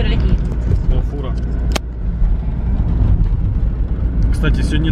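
A semi-truck rumbles past on a road outside a moving car, a loud low roar swelling and fading while people inside keep talking over it.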